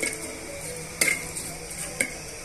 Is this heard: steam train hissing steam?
no